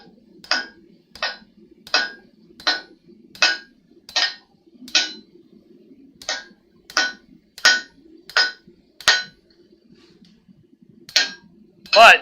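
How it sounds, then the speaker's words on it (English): Hammer blows ring out on a san mai deba knife blade being forged, about sixteen sharp metallic strikes in a steady rhythm with a brief pause midway, loud and close. "this is really where my hammer blows have to be pretty darn exact the whole time"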